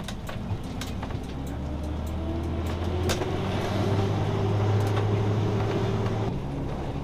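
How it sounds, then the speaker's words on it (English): High school commuter traffic hums past near a school, a steady low road drone with engines rising and fading as cars and a heavier vehicle pass at moderate distance, no one talking. "This is all high schooler traffic."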